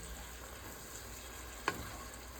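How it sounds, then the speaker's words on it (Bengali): Chicken curry being sautéed in a pan with tomato and a splash of water, giving a steady low sizzle and fry with one brief clink of a utensil stirring partway through. "এখন তুহিন একটু কষাচ্ছে।"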